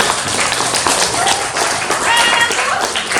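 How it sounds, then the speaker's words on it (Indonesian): Students in a classroom clap together at the end of a lesson, a loud, busy patter of many hands with voices chattering underneath. "Tepuk tangan untuk kita semua."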